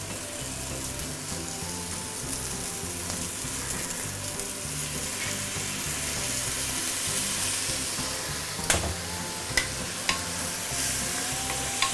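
Pork belly sizzles and crackles steadily in a hot wok as dark soy sauce goes in, with continuous frying hiss, occasional stirring scrapes and a few sharp clinks near the end.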